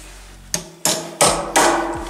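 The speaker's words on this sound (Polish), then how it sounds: "Biję ją młoteczkiem." A small hammer strikes a screw four times during a Peugeot 306 driver's seat repair, each sharp metallic knock loud and close, spaced a fraction of a second apart with brief ringing decay between blows.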